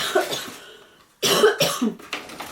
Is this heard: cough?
yes